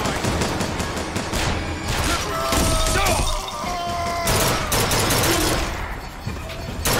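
Gunfire in BioShock Infinite, a rapid fusillade of loud shots and impacts with crashes and shattering, dense and continuous with brief pauses, voices occasionally beneath the chaos.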